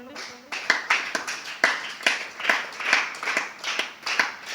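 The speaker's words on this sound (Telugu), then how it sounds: "చప్పట్లు కొట్టండి." A church congregation claps along at a steady rhythmic beat, evenly spaced hand claps that sound moderately close, with a voice speaking faintly underneath.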